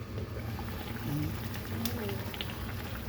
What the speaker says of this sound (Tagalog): Paksiw, kumukulo na siya.